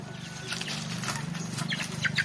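Free-range chickens on a farm cluck softly and intermittently while scratching and foraging, over a steady low background hum, close by.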